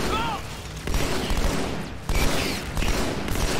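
Shotgun fire in Halo 2: Anniversary, heavy booming blasts amid continuous dense battle noise, gunfire and effects, loud and close.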